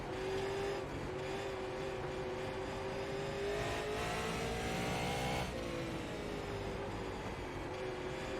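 Super Late Model race car engine in iRacing at Oxford, a continuous buzzing drone that rises and falls slightly with throttle, steady and moderately close with no talking.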